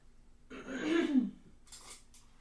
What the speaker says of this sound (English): I'm having to clear my throat quite often